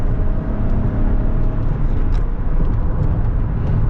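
A Peugeot 3008 SUV with the 1.2 PureTech 130 hp engine accelerates, heard from inside as a loud, steady low engine drone and road rumble with no talking.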